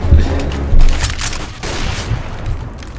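Loud, close gunfire from a Counter-Strike: Global Offensive Gun Game round: a heavy burst followed by further shots and booming impacts over about three seconds, with no talking.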